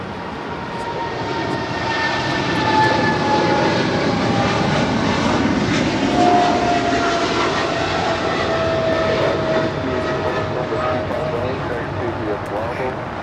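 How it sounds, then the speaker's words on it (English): A Boeing 777 freighter departs LAX with a loud, sustained jet engine roar that swells and holds, while a person talks over it. "That is Polar Air Cargo Flight 962 departing to Cincinnati on a 777 freighter."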